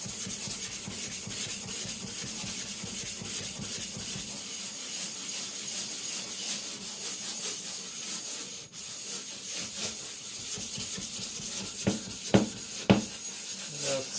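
An Eden Kanso Aogami gyuto rubbing back and forth across a 400-grit whetstone in steady, rhythmic gritty strokes, close and fairly quiet, with a few louder scrapes near the end.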